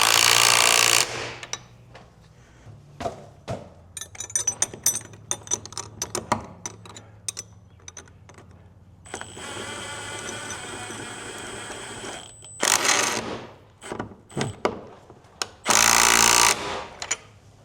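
A Milwaukee M12 Gen 2 1/2-inch impact wrench tightening bolts, with loud, rattling hammering bursts at the start and near the end, plus several shorter clicks and a steady whine between them, and no talk.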